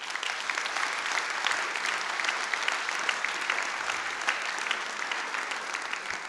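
A literary gathering's audience in Pau claps for Philippe Lapousterle during a closing speech, a dense, even round of applause from a sizable crowd lasting throughout, alone without talk.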